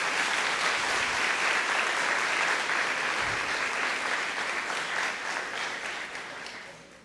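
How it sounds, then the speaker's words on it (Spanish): Audience at a neurology congress applauding, a dense sustained clapping that fades gradually toward the end. "un aplauso para él, por favor"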